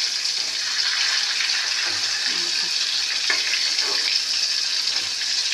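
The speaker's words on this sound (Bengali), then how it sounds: "একটু নুন হলুদ মাছে তেল গরম হতে মাছটা ভাজাতে বসিয়ে দিয়েছি।" Fish rubbed with salt and turmeric fries in hot oil, a dense, even crackling sizzle close by that holds steady for the whole stretch, with a few faint spatters and pops mixed in.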